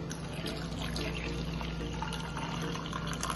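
Water is poured from close by onto chopped beetroot in a blender jar for juice, a continuous gurgling pour lasting a few seconds with no talking.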